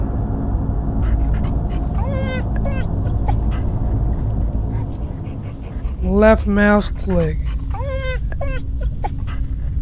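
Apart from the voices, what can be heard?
dog whimpering in the Fears to Fathom video game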